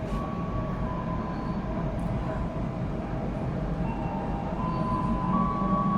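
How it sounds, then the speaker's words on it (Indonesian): Steady rumbling of an INKA CLI-225 KRL commuter train running through Karet station, heard from on board. The roar and rattle continue without a break, with faint tonal whines over them and no talking. "ini seperti kita melintas langsung stasiun Karet nih"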